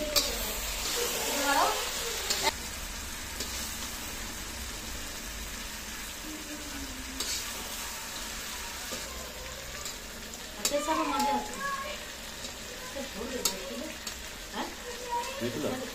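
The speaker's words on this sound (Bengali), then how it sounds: "এই যে কষা এবং তেল ছাড়ছে, মানে কষা হয়ে গেছে প্রায়" Mutton being sautéed in oil, in a kitchen near Puri, fries with a steady loud sizzle while a spoon stirs and scrapes through it, and a person talks over the cooking.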